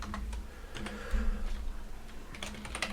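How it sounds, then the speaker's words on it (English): Keystrokes on a computer keyboard while coding C++ for an Unreal Engine 5 survival game, a quick run of light clicks over a steady low hum, fairly close and moderately quiet. "Helps if I actually typed it."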